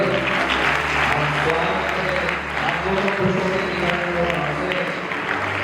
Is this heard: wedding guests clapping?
yes